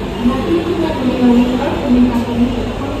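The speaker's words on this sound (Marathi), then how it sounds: "आपली ट्रेन इथून डायरेक्ट नाशिकला थांबणार आहे" Inside a train running from Mumbai to Nashik, a loud continuous low rumble and hum of the carriage rolls on steadily, with a faint murmur of voices underneath.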